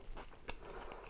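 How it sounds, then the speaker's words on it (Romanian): Close, quiet bite into a shawarma with meat and sauces, a short crunch followed by soft chewing and scraping, with no voices. "Hai să luăm o mușcătură."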